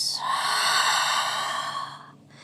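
A single long, soft exhale through the nose during a yoga class, a breathy hiss that rises, holds for about two seconds and fades out, close and quiet.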